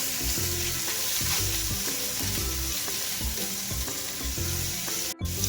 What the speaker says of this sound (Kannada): ಹಾಕ್ಕೊಂಡು ಸ್ವಲ್ಪ ಫ್ರೈ ಮಾಡ್ಕೊಳ್ಳೋಣ.